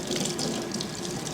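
Tap water runs steadily into a sink while lemongrass is washed, a close, continuous splashing rush.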